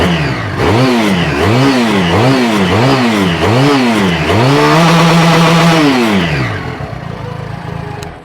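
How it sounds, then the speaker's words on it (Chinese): A near-new 2021 twin-cylinder, water-cooled 400cc motorcycle with a slanted HC exhaust revs up close: five quick throttle blips rising and falling, then a longer sustained rev before it drops back to idle. "发动机搭载一颗双缸水冷400cc 发动机，斜口 HC 排气。 来听下声浪"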